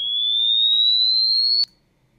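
A single synthesized sine tone from Crescendo synth software glides slowly upward in pitch for about one and a half seconds, then cuts off with a brief click and near silence.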